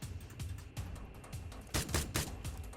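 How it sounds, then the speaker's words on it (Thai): Gunfire in PUBG Mobile rings out from inside a house: a rapid series of sharp shots in uneven bursts, moderately loud and slightly distant, with no talking over them. "เมื่อกี้มันมีเสียงปืนเหมือนในบ้านเลยอะ"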